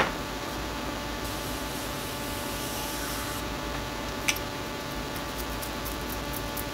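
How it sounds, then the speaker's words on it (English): Morphe continuous setting mist is sprayed at close range, a soft airy hiss lasting a couple of seconds over a quiet room background. "Let's do a little Morphe continuous setting mist."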